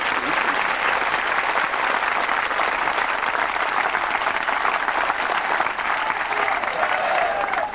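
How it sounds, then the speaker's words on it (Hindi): An audience at a Diwali spiritual retreat claps together in sustained, dense applause that holds steady and loud for several seconds. "ये वास्तव में एक ताली बजाने का कार्य है।"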